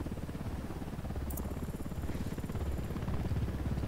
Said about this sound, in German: Da kommt ein Heli.